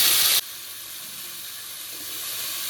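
Ridge gourd dropped into hot oil with cumin seeds in a wok, a loud burst of sizzle at first that settles into a steady, softer hiss frying on without pause.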